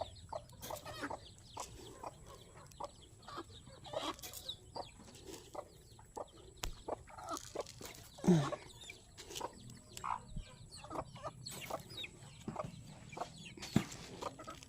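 A hen clucks in a farmyard in short, scattered bursts, close by, among other chickens and outdoor background noise.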